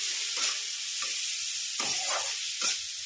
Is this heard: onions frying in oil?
yes